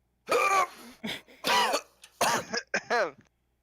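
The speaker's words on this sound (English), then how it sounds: "I just start coughing." A person coughs and clears their throat repeatedly in several harsh, rasping bursts, loud and close, with brief gaps between them.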